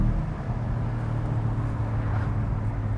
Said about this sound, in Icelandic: þú opnar pústið meira til þess að heyri í honum röddina